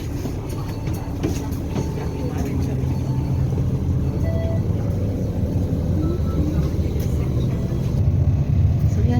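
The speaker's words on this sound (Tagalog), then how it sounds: "Guys, nakasakay na kami ng bus." Steady low rumble and road noise from inside a city bus in stop-and-go traffic, continuous engine drone with occasional rattles, while people talk over it.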